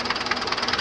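A tractor engine runs during a harvest, its fast, even knocking pulse loud and close with no other sounds.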